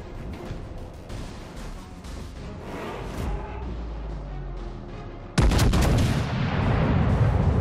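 Warship guns fire in the naval video game World of Warships: Legends, with several muffled distant booms followed by a sudden loud, close blast that rumbles on.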